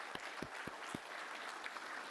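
An audience at a Hall of Fame induction ceremony applauding, with a few sharp, distinct claps standing out over a steady, fairly faint wash of clapping from the crowd.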